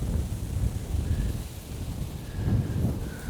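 Strong wind buffets the microphone beside a river while fishing, a steady rumbling roar that swells and eases in loud gusts throughout, with no talk.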